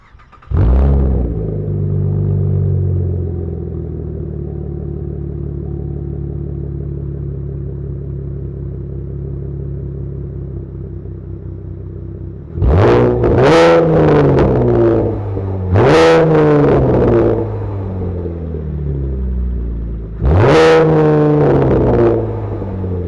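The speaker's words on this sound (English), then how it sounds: "let's hear the exhaust right now" A modified car's engine idles with a deep exhaust rumble, then is revved sharply three or four times, each rev rising and falling back.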